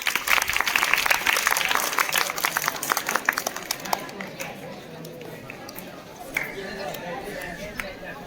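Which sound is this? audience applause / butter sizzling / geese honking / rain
audience applause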